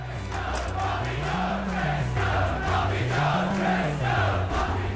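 A darts match crowd in a hall cheers and chants together in a rising and falling sung tune, a loud, continuous mass of voices repeating the same melodic phrase.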